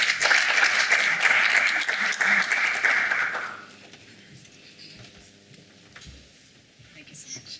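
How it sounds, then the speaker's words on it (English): An audience at a conference session applauds as a speaker takes the stage, a loud burst of clapping that holds for about three seconds and then drops away to quiet room noise. "please give her a round of applause."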